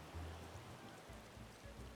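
Rain falling in the video game Final Fantasy XIV, a very faint, steady hiss of drops with low rumbling patter throughout, no voices.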